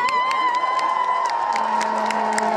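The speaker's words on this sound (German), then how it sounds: "noch mal einen fetten Applaus für Carola" An outdoor crowd at a Berlin climate strike cheers and claps for Carola Rackete, with whoops and scattered sharp claps over a steady, loud roar that carries through the whole stretch.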